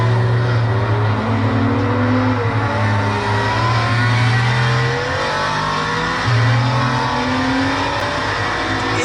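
A BMW 1 Series drives fast on the Nürburgring during a tourist session, its engine roaring loud and steady with rising and falling revs and tire noise, close and constant throughout.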